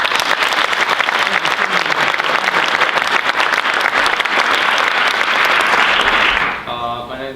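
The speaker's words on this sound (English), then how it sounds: "I think they deserve a huge round of applause for all they've done for us." Dense, loud applause from a school jazz concert audience fills the room steadily for several seconds, then thins out toward the end as a few voices and scattered claps remain.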